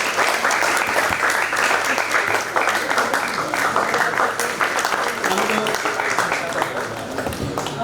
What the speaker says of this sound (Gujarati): આપણે જોરદાર તાળીઓથી વધાવીએ